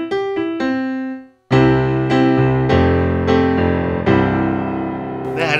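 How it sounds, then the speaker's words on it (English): Vivo Grand piano tone from a Dexibell Vivo SX7 sound module played over MIDI: a few quick notes, a short pause, then a run of struck chords and notes ringing full and close. "What you're hearing is the Vivo Grand,"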